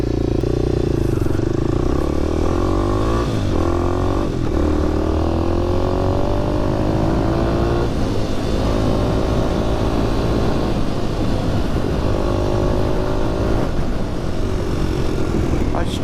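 A Kawasaki KLX250SF motorcycle engine revs and accelerates, rising pitch sweeps repeating as it pulls through gears, loud and close with steady road and wind noise.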